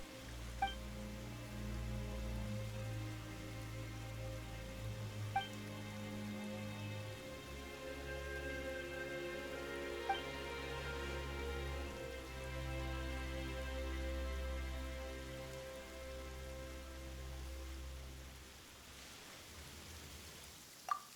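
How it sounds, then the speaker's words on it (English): Rain falling in the video game Genshin Impact: a soft, steady patter that runs throughout beneath sustained game music, with a few faint chimes along the way. "Why is it raining all of a sudden?"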